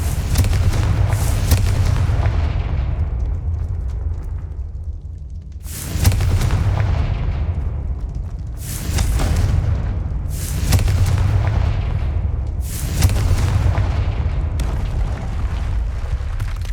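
Confringo fire spell explosions in Hogwarts Legacy land as five heavy booming blasts, each with a sharp crack that decays into a long rumbling tail over a constant low drone.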